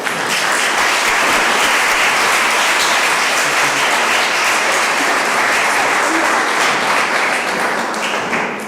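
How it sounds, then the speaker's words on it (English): Steady, dense applause from an audience at an awards ceremony fills the clip, loud and continuous without letting up. "and a round of applause, please."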